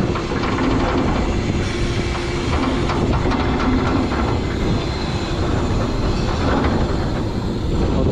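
A bulkhead wall being shifted along its track inside a ship's cargo hold, giving a steady loud mechanical rumble and grinding roll with faint squeals, continuous for the whole stretch with no talk.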